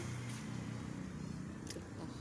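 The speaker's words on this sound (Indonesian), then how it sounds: "Ada mobil jenazahnya." A hearse car passes by outside a mosque, a faint low engine hum and tyre rush carried steadily in the background at a distance.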